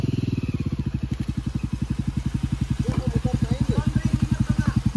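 A Yezdi Adventure motorcycle engine thumps in a steady, fast single-cylinder pulse while riding offroad, loud and close throughout, with faint voices in the background.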